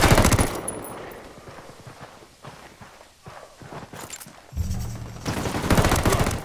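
Gunfire in the tactical shooter Ghost Recon Wildlands: short bursts of shots that come and go over several seconds, loud and close, followed by a heavier louder stretch near the end.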